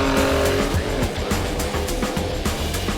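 Cars racing on a rally stage of the Mughal Rally 2012, with loud, close engine roar and repeated tire squeals and skids in a dense, continuous burst.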